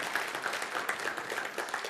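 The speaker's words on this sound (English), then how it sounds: "So can we give him a clap here and say welcome?" A church congregation applauds to welcome a visiting missionary, a steady wash of many hands clapping that fills the room evenly from start to finish, at moderate volume with no voice standing out.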